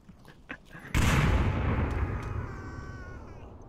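A frag grenade explodes in the Onward VR shooter: a sudden heavy blast after a second of quieter clicks and shuffles, followed by a long rumbling decay with faint ringing.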